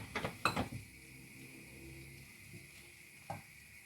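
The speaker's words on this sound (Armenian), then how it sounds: "ամբողջը կխառնեմ իրար և կթողնեմ մի թեթև նորից տապակվի հնդկաձավարը սոխի հետ" Buckwheat and onion frying together in a pan while being stirred, with a few scraping clinks of the spoon early on, a quiet steady sizzle throughout, and one more scrape near the end.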